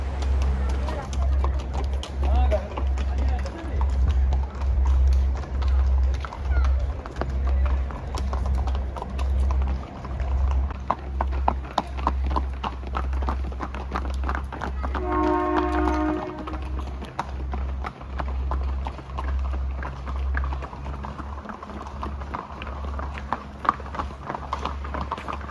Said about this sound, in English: The clopping of these horses and chipping of various birds are the only sound you can hear